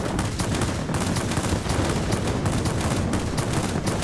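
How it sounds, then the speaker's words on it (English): Bomb dropped from a Me 329 aircraft in the World of Warplanes video game, heard as a dense, continuous roar of engine and gunfire-like rumble with rapid bursts, loud throughout and without any voice. "I'm just gonna drop a bomb here."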